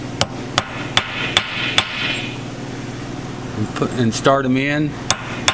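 A hammer strikes a driver to seat parts into a Ford 641 tractor hydraulic pump during a rebuild, sharp metallic blows at a steady pace, close and loud, with someone speaking briefly between strikes.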